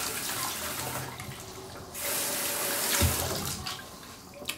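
Hot water runs from a tap into a sink in a steady, close rush, with a brief louder splash partway through and no voices.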